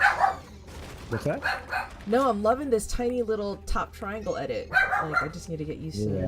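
A dog barks and yips in short bursts in the background while people talk steadily over it during a Fortnite stream.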